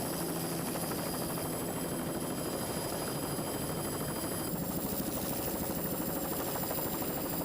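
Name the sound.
helicopter flying overhead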